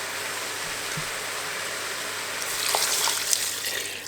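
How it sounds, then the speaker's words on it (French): Water pours steadily into a pressure-cooker pot holding turmeric rice and a beef stock cube, making a continuous close splashing rush that grows louder and brighter toward the end. "je vais rajouter 600 ml d'eau"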